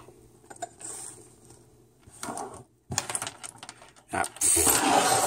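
A set of everyday-carry keys shifted around on a surface, giving scattered metallic clinks and jangles in short bursts, with a louder rattle at the end and no talk over it.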